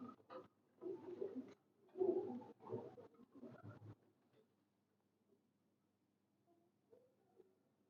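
Soft cooing from a golden and teddy cross pigeon, a few low rounded bursts close by in the first half, then fading to faint quiet calls.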